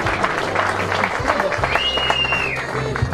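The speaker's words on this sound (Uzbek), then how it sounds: "yana bir bor guldiroz qarsaklar bilan birgalikda albatta" An audience at a 65th birthday celebration claps in steady, dense applause lasting throughout, with a voice and background music over it.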